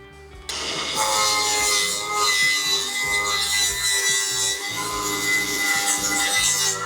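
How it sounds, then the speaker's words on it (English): Angle grinder working on the rusty steel fender of a BMW E28, a steady loud abrasive grinding with a constant whine that starts abruptly and continues without pause. "now I'm gonna grind the other side"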